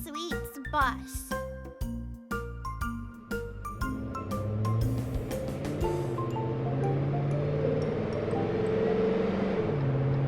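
A toy birthday sweets bus plays a bright electronic jingle of chiming tones, first in short staccato bursts, then a steady melodic tune over a warbling hum.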